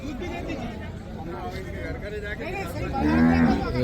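Buffalo calves lowing among cattle at the Erragadda buffalo market in Hyderabad, a drawn-out moo rising near the end over a busy background of crowd chatter and livestock noise.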